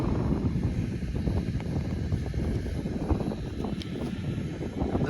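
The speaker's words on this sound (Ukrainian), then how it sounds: "Воно вітер може задуває." Constant low buffeting rush of wind in a farm field during soybean sowing fills the whole stretch, rumbling against the microphone with no pauses.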